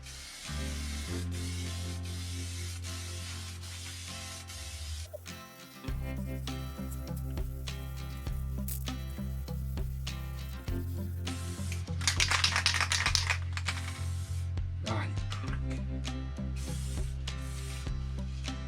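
An aerosol can sprays paint onto a motorcycle petrol tank in repeated hissing bursts, sputtering now and then from a clogging nozzle, with short gaps and light rattles between passes.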